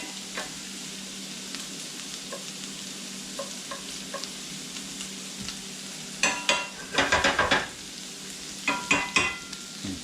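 Onions and potatoes fry in a pan with a steady sizzle, broken by loud bursts of scraping and clatter as they are stirred and moved around, the stirring coming in bunched rhythmic strokes near the end.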